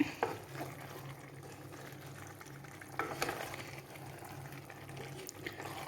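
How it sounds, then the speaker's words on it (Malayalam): Chicken curry bubbles in a pot as a ladle stirs it gently, producing a low, steady simmer with soft scraping and liquid swishes throughout. "ആ വെള്ളമൊക്കെ തിളച്ച് കയറി വരുന്നുണ്ട് ഇനി നമുക്ക് ഈ തവി മതി കാരണം ഇറച്ചി ഉടഞ്ഞു പോകരുതല്ലോ പതുക്കെ ഇളക്കാൻ"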